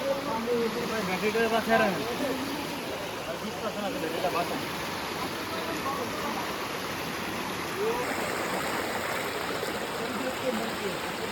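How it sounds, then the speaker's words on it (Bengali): Water from a waterfall and stream at Sitakunda flows steadily in a broad, continuous rush that stays at an even level throughout, with no other sound standing out above it. "আমার মনে হয় সেই ঝর্নার পানিটা"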